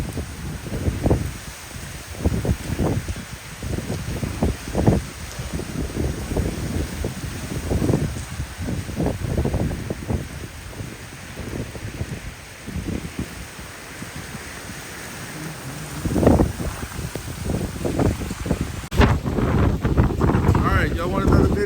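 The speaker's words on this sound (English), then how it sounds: "This is South Louisiana, currently getting 40 to 50 mile an hour winds steady, sustained." Steady 40 to 50 mph sustained winds from Hurricane Francine in South Louisiana, roaring loudly and continuously across the microphone in gusting bursts for the whole stretch, with no voices.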